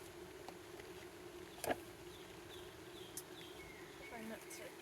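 Honeybees buzz faintly around an open hive during installation in Marquette County, Wisconsin, a thin, low drone with a few brief louder knocks and rustles near the hive.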